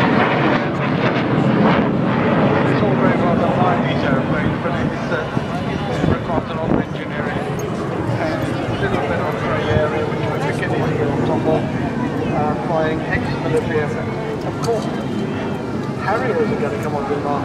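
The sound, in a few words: Hawker Hunter jet aircraft flying at an airshow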